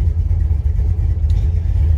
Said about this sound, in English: got the truck fired up. Letting it warm up a little bit.